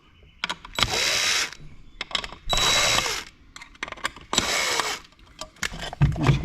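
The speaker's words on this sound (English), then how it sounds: "And basically remove these screws." A power driver whirs in three bursts of about a second each, loosening Torx T20 screws from a Pentair variable speed pool pump control panel, with clicks and handling noises between.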